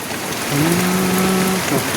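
Heavy rain pours steadily during a rainstorm, a dense, loud hiss throughout, with a brief low droning tone over the downpour partway through.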